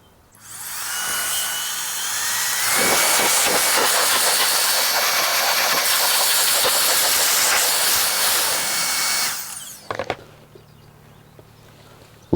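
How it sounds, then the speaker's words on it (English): A Meco Eleverde turbo fan duster blower whooshes loudly and steadily for about seven seconds as it blows dust away, then winds down, leaving a few faint clicks and handling noises. "I'm gonna go ahead and just use the blower"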